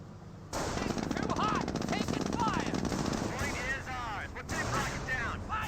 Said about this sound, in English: I want to sort of zoom in and show you the 30 cal, not a 50 cal.